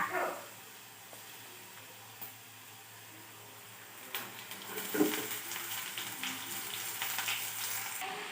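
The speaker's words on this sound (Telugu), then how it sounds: "కడిగి వాష్ చేసుకొని శుభ్రంగా పక్కన పెట్టుకున్న తోటకూరని ఆ పోపు దినుసుల్లోకి వేసుకున్నాము" Washed amaranth leaves drop into hot oil with tempering spices and fried onions, a quiet pan that swells into a steady hiss and crackle with a few stirring clinks.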